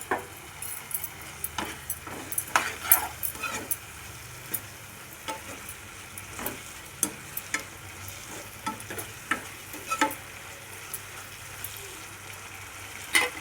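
Tomato puree and spices fry in a pan, a steady low sizzle with frequent scraping stir strokes and light clinks of a spoon against metal throughout, close and moderately quiet with no voices.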